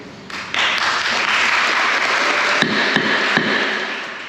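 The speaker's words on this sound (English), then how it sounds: "Please refrain from applause until the end of the bill." Applause fills a student senate session chamber, swelling after a quieter start and holding steady with a few sharp claps standing out before tapering.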